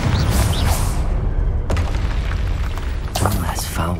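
A Confringo spell blast from the game Hogwarts Legacy booms with deep rumbling bursts and crackling impacts, layered with shouted voices and battle noise throughout.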